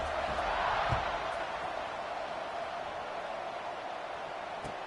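Steady broadband crowd buzz fills a stadium during a College Football 26 video game broadcast of Oklahoma at Syracuse, a constant murmuring roar with no clear peaks.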